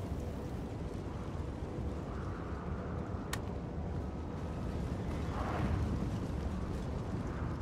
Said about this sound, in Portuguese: Tô tomando tiro de canhão nas costas.